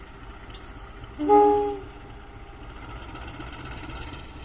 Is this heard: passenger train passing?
yes